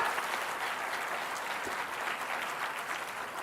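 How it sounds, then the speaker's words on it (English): Steady, even applause from an audience at an innovation awards ceremony fills the whole stretch, dense and moderately distant with no talk on top. "I would want you to applaud and celebrate"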